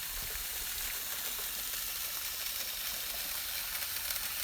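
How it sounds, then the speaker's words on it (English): Water sprays steadily from the end of a half-inch hose on a half-inch barb fed by a Fisher and Paykel hydro system, a continuous hissing gush with faint sputters from air pockets, close and unbroken. "You can hear some air pockets coming through as the water escapes from the end of the hose."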